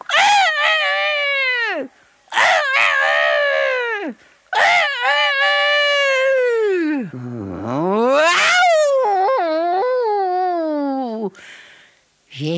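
A storyteller's voice imitates a fox angrily howling and barking in a Swiss German fairy tale: long, loud, swooping wails that rise and fall, broken by short pauses and ending in a quieter cry.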